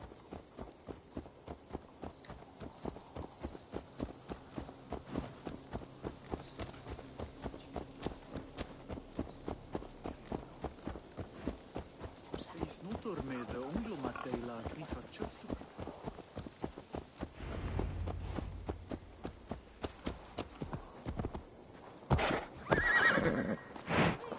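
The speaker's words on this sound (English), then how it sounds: "Let's return the horse." Horse in Assassin's Creed Valhalla clip-clopping in a steady walking rhythm throughout, with neighs and whinnies rising over the hooves near the middle and again toward the end, all close and fairly loud.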